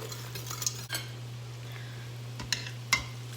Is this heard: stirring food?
yes